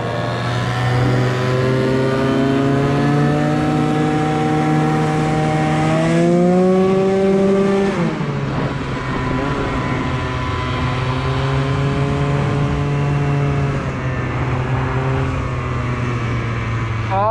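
A motorbike engine roars loud and close while riding, a steady drone whose pitch climbs and drops through revs and gear changes, with wind noise and no clear talk.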